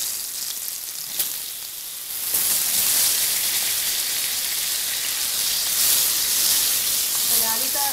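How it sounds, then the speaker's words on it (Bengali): Potatoes dropped into hot oil seasoned with turmeric, a sudden loud sizzle that swells and continues as a dense, steady crackling fry, close by, with a little stirring near the end. "আর এবার আলুটা আগে ভেজে নেব"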